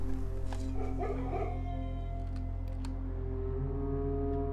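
Dogs barking and yipping in the Blue Prince video game, a few quick barks and whimpers early on over a steady low game hum, fairly quiet and fading into the background drone.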